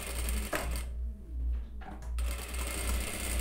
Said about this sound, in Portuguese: Vou passar essa costurinha aqui na reta e vou lá para o overlock para fazer o acabamento.